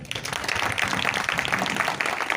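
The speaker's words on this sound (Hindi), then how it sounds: "जोरदार तालियां" Audience of schoolchildren applauding at an outdoor Makar Sankranti kite festival gathering, a short burst of loud, dense clapping with crowd noise mixed in.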